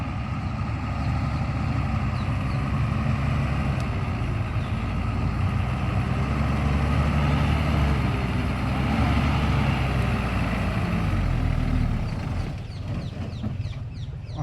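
A loaded lorry's diesel engine drones heavily and continuously up close as its wheels spin and slip in wet mud, easing off near the end.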